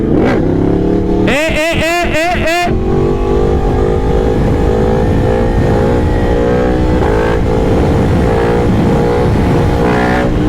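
A 2023 Yamaha MT-10 SP motorcycle engine revs and pulls steadily under load in third gear, loud and close, with a brief burst of rapid warbling revs early on before a sustained drone.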